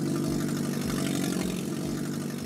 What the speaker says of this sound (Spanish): Es el sonido de un auto al que le robaron el catalizador